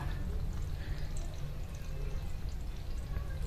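Water drains steadily out of an LG automatic washing machine after a sock blocking the drain was cleared. The flow is a continuous hissing rush with no pauses.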